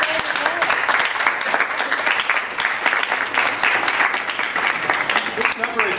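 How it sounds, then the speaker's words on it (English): Dense applause from a gathered group of student resident assistants fills the room continuously, loud and steady with many overlapping claps. "Give yourself a round of applause"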